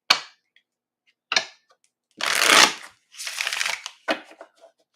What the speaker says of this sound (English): I never used to shuffle my cards like this